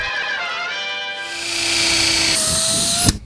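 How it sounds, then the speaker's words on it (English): Power drill whirring as it drives deck screws into a wooden DIY kayak launch, the motor pitch steady then shifting as the screw seats, ending with a sharp click, loud and close with no talk. "Then it was time to drill it together, Batman."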